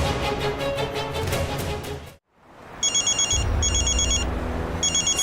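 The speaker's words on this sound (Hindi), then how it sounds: "ससुरन के सारे फोन आज ही बजेंगे।" A telephone rings in repeated electronic trilling bursts after a dramatic musical sting fades out, with a low rumbling score continuing underneath.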